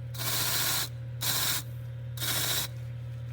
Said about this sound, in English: What I like about the wire wheel, it just does such a nice job of cleaning up all these areas.